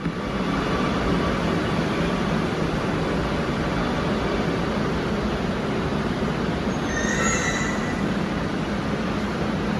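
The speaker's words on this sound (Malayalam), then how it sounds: "അങ്ങനെ നമ്മൾ മെട്രോ വന്നു" A metro train arriving at a station rumbles loudly and steadily close by, with a brief high wheel squeal rising near the end.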